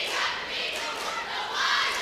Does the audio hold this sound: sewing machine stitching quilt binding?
no